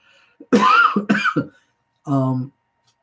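A man gives a few harsh coughs close up, followed by a short voiced throat-clearing grunt, with quiet pauses around them.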